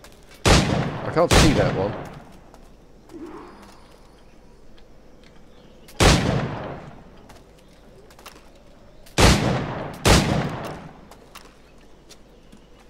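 Gunshots ring out in Assassin's Creed IV Black Flag: a pair of loud, echoing blasts, then single and double shots spaced several seconds apart, with brief speech between them.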